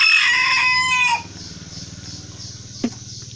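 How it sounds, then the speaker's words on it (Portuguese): Chickens wander about outdoors, one crowing loudly at first before soft, low clucking and rustling continue close by, with a brief sharp knock near the end. "E tá aí as galinhas passeando"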